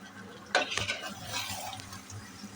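Potatoes for aloo dum hit hot oil with a close burst of sizzling, then scrape and clink as they are stirred in the pan, the frying hiss continuing softly afterward.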